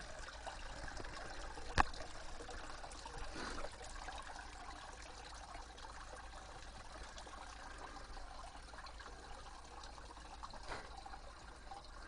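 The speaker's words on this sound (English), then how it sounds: "water coming up" Water from an old hand pump trickles and splashes steadily at low level, with a brief sharp knock early on and faint background noise throughout.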